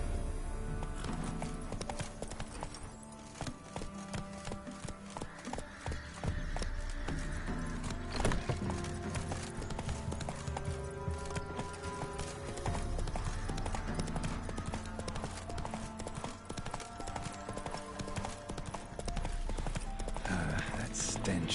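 Roach the horse gallops in The Witcher game, a steady run of hoof clip-clops with occasional whinnies, mixed with game background sound and a voice talking over it.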